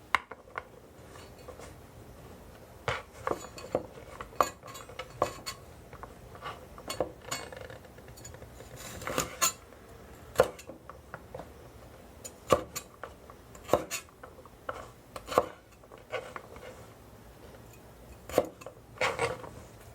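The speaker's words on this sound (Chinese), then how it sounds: "那长豆我们把它切丁" A knife dicing long beans on a cutting board, quick irregular taps and knocks of the blade striking the board, close and distinct with no talking.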